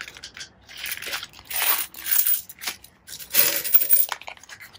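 Coins tumbling out of paper cash envelopes, heard as several close bursts of metallic jingling mixed with paper crinkling and rustling, separated by short pauses.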